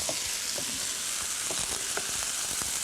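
Rice for Afghan pilaf frying in a pot as it is stirred, with a continuous gentle sizzle and irregular spoon scrapes and taps, close and alone.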